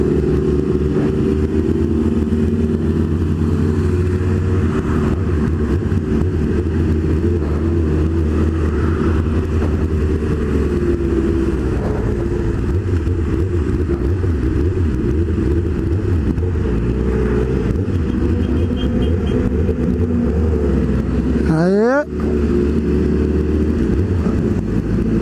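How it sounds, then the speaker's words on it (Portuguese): Several motorcycles ride together escorting one with a punctured front tyre, their engines droning steadily at close range with shifting pitch and occasional revs. A brief passing whoosh cuts through near the end. "vamos escoltando o Mamal, que está com sua motocicleta com o pneu furado"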